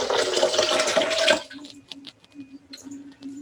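Water poured from a container into a pot while making homemade coconut milk, a steady close splashing pour for about a second and a half, then small drips and faint settling sounds.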